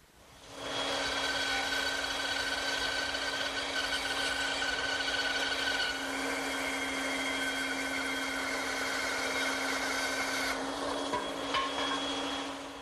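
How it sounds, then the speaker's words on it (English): A woodworking bandsaw runs up and cuts a wooden table leg blank, producing a steady loud motor hum with a high blade whine that shifts in tone partway through, then winds down, with no talking. "then I'll cut it over at my bandsaw"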